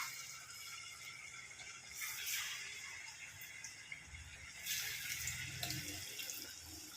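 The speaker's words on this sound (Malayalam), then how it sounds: "എന്നിട്ട് എണ്ണയിലേക്ക് ഇട്ട് കൊടുക്കാം." Boiled green plantain cutlets, shaped by hand, sizzle in hot oil, a continuous crackling hiss that swells noticeably around two seconds and again near the five-second mark.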